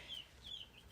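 Baby chicks in a home garden flock give soft, high cheeping peeps, two or three short calls within a second, faint and close with no talking.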